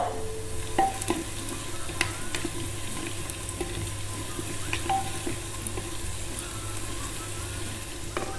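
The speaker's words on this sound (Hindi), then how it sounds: "इसे थोड़ी देर चला लें" Onions with fenugreek seeds, mustard seeds and salt sizzle in a pan while being stirred for achari urad daal, a loud continuous frying hiss with occasional clinks and scrapes of the spoon.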